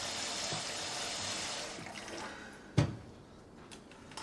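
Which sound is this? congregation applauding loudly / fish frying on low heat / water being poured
water being poured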